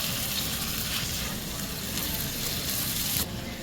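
Minced keema with gawar phali (cluster beans) and yogurt sizzling in oil over a medium flame, a continuous dense close frying hiss with faint stirring and a quiet voice underneath.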